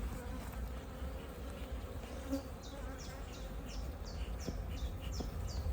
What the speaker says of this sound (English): they're not very happy already, these bees